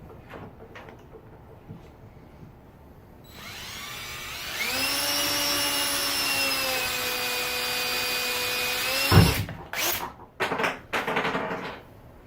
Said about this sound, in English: Get yourself a screw gun. Find a little recessed hole and do a little pilot hole through there.